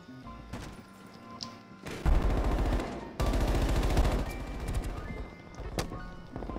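Video game gunfire from a DMR rifle, with rapid bursts of shots and sharp loud cracks that come in clusters and stop and start in a multiplayer match, mostly free of talk.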